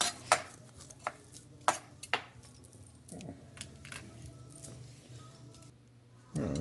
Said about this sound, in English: you'll just make some slices going down the opposite way